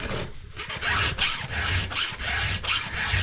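A chainsaw chain being sharpened by hand with a file: a series of rhythmic, close, raspy strokes with short pauses between them, and no talking.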